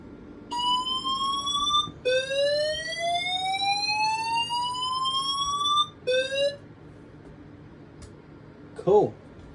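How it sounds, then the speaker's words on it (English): During a fire alarm system test, a building sounder emits loud rising electronic sweep tones in repeated cycles, cutting off, restarting briefly, then stopping before a short final noise. "we'll do a quick alarm test in here and make sure we can hear it properly"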